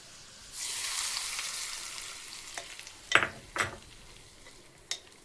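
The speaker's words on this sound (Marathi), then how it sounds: "आणि ही आता आपण कैरीत ही फोडणी घालणार आहोत।" Hot tempering of cumin, crushed garlic and red chilli powder hits raw mango with a sudden loud sizzle that fades, followed by a few sharp clinks of a spoon against the dish.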